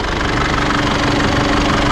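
A pickup truck engine, an Isuzu D-Max, idles loudly and steadily up close, a continuous low rumble with a knocking diesel-like texture throughout.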